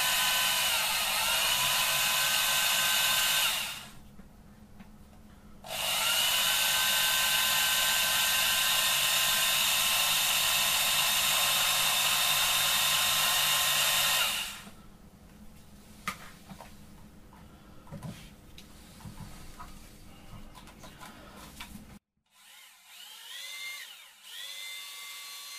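A variable-speed power drill is run slowly to stir and cream honey, giving a steady high whine in two long stretches separated by a short pause. Clattering handling noises follow once the motor stops.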